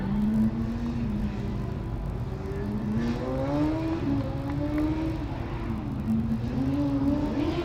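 A Formula Student race car on an autocross run at the 2012 FSG event, its engine rising and falling in repeated revs and gear changes, heard steadily from a moderate distance with no talk.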